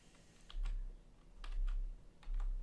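Typing on a computer keyboard comes in three short bursts of quick clicking taps, close and moderately loud, separated by brief pauses.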